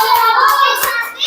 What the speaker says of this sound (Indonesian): tepuk tangan buat kelompok Nafil dan Kanza